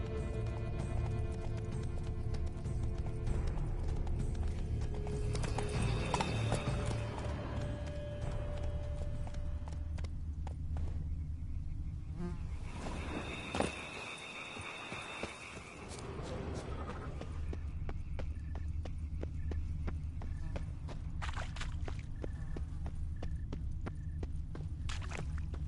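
Horses gallop with steady clip-clopping hooves in The Witcher video game, a continuous rhythmic beat under game music and ambience that dips briefly midway before resuming.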